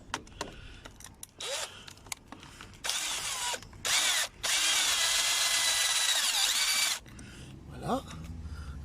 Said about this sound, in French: Je règle la visseuse sur un serrage